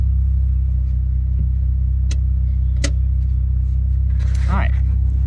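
A V6 car engine idles steadily with the parking brake on, a loud constant low rumble filling the clip, with a few brief clicks and a short voice near the end.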